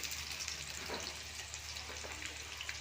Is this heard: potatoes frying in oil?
yes